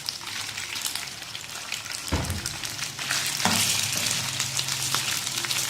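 Chicken pieces for Manchurian fry in hot oil with a dense, steady crackling sizzle that swells as more pieces drop in, close and continuous without talk.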